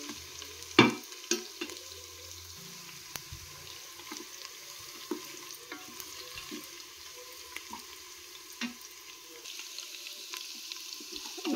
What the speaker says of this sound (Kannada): ಸ್ವಲ್ಪ ಫ್ರೈ ಆಗಬೇಕು ಫ್ರೆಂಡ್ಸ್.